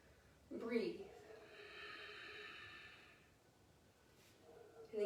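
Close, quiet breathing during a gentle yoga flow, a short sharp intake followed by a long soft exhale, then another breath beginning at the end.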